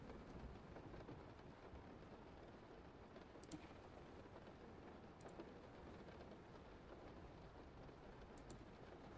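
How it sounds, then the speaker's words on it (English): Rain falling outside, a steady soft hiss that continues throughout, quiet and distant, with a few faint key clicks now and then. "I hope the rain ain't too loud."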